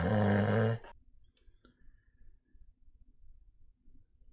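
A sleeping person draws one heavy, rasping, snore-like breath that is loud and close, then fades into near-silence with only faint low rumbling.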